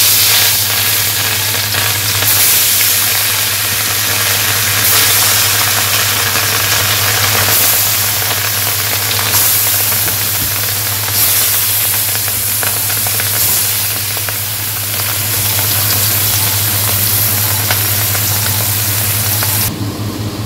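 Fish coated in salt, turmeric and chili frying in hot oil in a wok, a steady loud sizzle with crackling running unbroken throughout, no talking, a low steady hum underneath.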